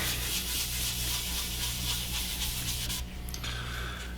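Rag rubbing wood stain into a scratch on a wooden surface, a steady close-up scrubbing hiss that continues without pause and eases slightly toward the end.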